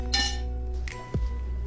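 Glasses clinking in a celebratory toast at a congratulations gathering: a bright ringing clink, a second softer clink, then a dull low knock, close and clear with no talk.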